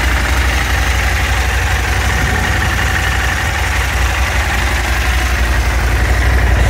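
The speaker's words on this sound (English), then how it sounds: "and the bike starts itself." A 2023 Husqvarna Norden 901 motorcycle engine idles steadily and close by, a deep, even rumble with no talk over it.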